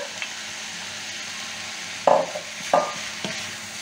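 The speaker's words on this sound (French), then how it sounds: "Là, je vais mettre mes tomates." Tomatoes go into a hot pan on a gas or electric hob, and a few short bursts of sizzling follow over a steady background hiss.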